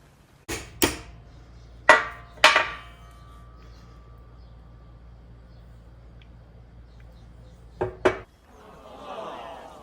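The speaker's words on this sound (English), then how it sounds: "Tap, tap, tap it in." Hammer tapping an S-spring into a Ford Traction-Lok differential: a few sharp metallic taps in short clusters, a pair early, two more, then a quick double tap after a pause, close and distinct over a quiet background.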